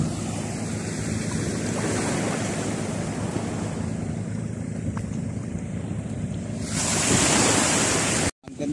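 Sea waves heard from a small bamboo-outrigger fishing boat out at sea while fishing for tuna: continuous loud rushing water and wind buffeting the microphone, swelling near the end before a brief dropout.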